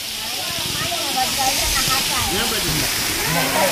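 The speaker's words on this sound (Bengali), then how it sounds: "কি সুন্দর পাহাড়ি জল, এগুলো কিন্তু সেই ওপর দিয়ে বেয়ে বেয়ে পড়ছে" Cold mountain water from a hillside stream near Haridwar rushes and splashes downhill in a steady, loud broadband wash, with people speaking over the constant flow.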